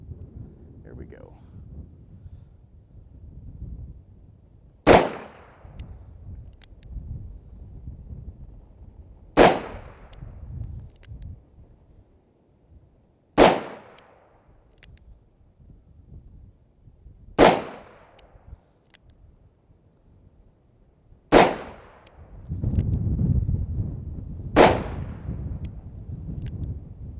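Six loud, sharp gunshots from a Smith & Wesson 686 .357 Magnum revolver, fired one at a time at a steady pace of roughly four seconds apart, each crack ringing out over wind noise.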